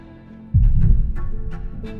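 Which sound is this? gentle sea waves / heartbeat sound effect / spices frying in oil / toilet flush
heartbeat sound effect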